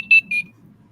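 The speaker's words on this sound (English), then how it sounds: "Please stop the timer." A timer alarm gives two short, sharp electronic beeps in quick succession, then falls silent with only a faint background hum left.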